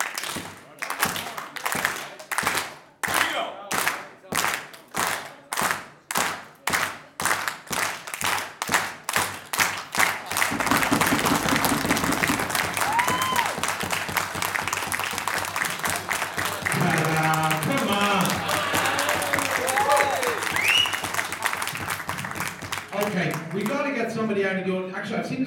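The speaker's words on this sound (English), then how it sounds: "A clap, a slow clap together usually helps if it's in unison, yeah?" An audience at an Irish poker event claps slowly in unison, a steady rhythm of sharp claps that speeds into loud sustained applause, with someone talking over the crowd near the end.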